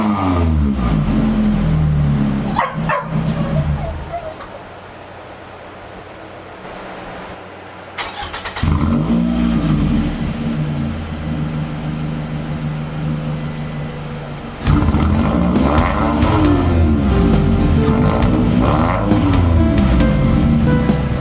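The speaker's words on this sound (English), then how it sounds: "We're gonna go ahead and start the car for you, and let's get that exhaust clip" A Scion tC cranks and starts, settles into a loud, steady idle, then its exhaust swells into sustained revving, each step louder than the last.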